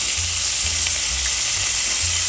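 Lobster tail searing in butter in a pan, a loud continuous hiss and crackle of hot fat close by, steady for the whole stretch with faint low bumps, no talking.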